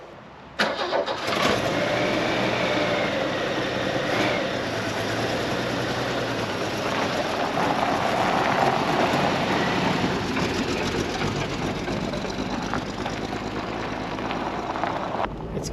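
A Holden Commodore with a suspected vacuum leak cranks and catches, then settles into a steady, loud, continuous run that fills the clip without pause.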